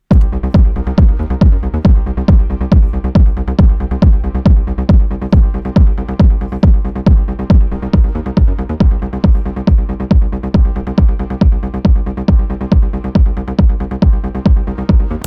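Loud music track with a steady driving beat repeating evenly throughout, played with its EQ switched off and then back on, so the tonal balance changes partway through while the rhythm runs on without talking.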